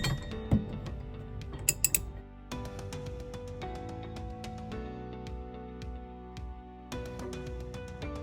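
A 19 mm metric ratchet tightening a bolt on a scooter lift hitch, giving rapid series of close metallic clicks in bursts, with a few sharper clinks of metal.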